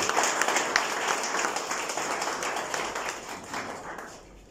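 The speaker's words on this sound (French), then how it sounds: "je crois qu'on peut s'applaudir pour ça" A crowd at the official launch of By the Sea with Awana in Mauritius claps in a dense burst of applause that slowly thins and fades out.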